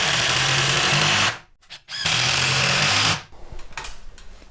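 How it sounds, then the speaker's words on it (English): A power drill drives a screw into a timber stud wall, two loud sustained whirring bursts split by a brief pause, then quieter handling noise. "Then drive your other screw in."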